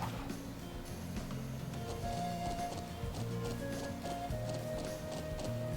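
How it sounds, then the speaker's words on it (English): Steady hoof clip-clops from horses in the video game Trails of Cold Steel, mixed with a constant bed of background music and ambient game noise, fairly loud throughout. "Horses, sweet."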